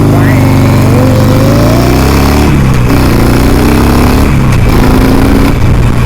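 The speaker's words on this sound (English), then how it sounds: "Bike's running really good." A motorcycle rides along a river road near the Stevenson Dam and the Housatonic River in Connecticut, its engine droning steadily with shifting pitch under loud wind rush.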